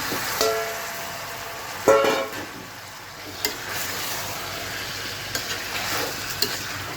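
Steady sizzling of chicken frying with spices in a hot pan, with a few sharp clatters of stirring and scraping throughout; no voices.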